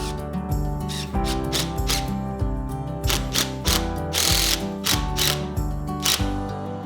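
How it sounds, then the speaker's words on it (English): A power driver sinks screws into wooden boards of a garden box, giving a loud close ratcheting whir in repeated short bursts with a clutch-like clicking rhythm. "I'm gonna go ahead and put 2 screws in the end of this board, end of the 4-foot board,"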